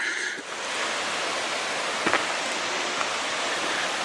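Running water in a ravine along an old railway grade hisses as a steady broadband wash, fairly close and continuous, with a couple of faint knocks partway through and no voices.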